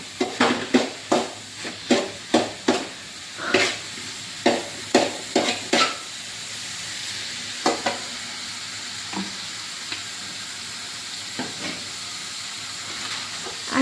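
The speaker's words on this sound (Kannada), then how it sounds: "ಈರುಳ್ಳಿ, ಟೊಮೆಟೊ, ಕಾಯಿ ಮೆಣಸು ಎಲ್ಲ ಫ್ರೈ ಮಾಡ್ತಾ ಇದ್ದಾರೆ" Onion, tomato and green chilli frying in oil in a pan for chicken biryani, loud close sizzling with a rapid series of scraping stirs that thin out into softer hissing and occasional taps.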